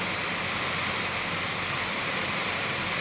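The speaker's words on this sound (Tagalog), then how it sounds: "Lakas ng ulan." Heavy rain pours steadily, a dense, even hiss of falling water that fills the space without a break.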